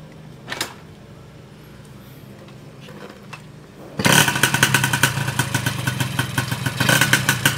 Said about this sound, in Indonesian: Turunkan stand, start motor, masuk gear.